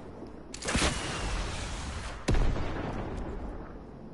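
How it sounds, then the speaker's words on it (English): Rockets fired in an online shooter video game, two sharp loud blasts about a second and a half apart, each with a rushing whoosh that trails off into a noisy, busy game background. "Oh no, I'm just shooting rocket."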